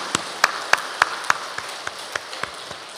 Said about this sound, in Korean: 하나님께 감사와 영광의 박수 한번 같이 드리겠습니다